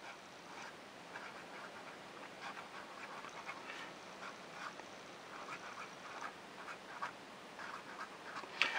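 Parker Duovac fountain pen, freshly dipped in ink, scratching a writing sample across paper in a close, continuous rustling scrawl with small irregular strokes throughout.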